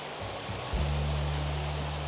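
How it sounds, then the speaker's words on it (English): Rapids on a river rushing with a steady, dense broadband roar, close and continuous, with no voices over it. "you can see there's even rapids on the river up here"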